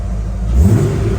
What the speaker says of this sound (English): it's time to give it a bit of a rev.